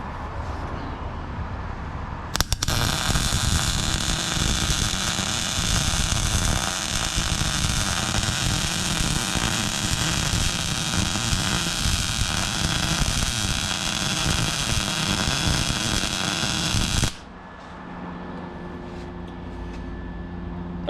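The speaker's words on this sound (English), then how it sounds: "So let's see if we can weld over top of this baby." A wire-feed welding torch lays a bead over a metal piece, giving a loud, steady crackling hiss that runs unbroken for about fifteen seconds before cutting off abruptly to near silence.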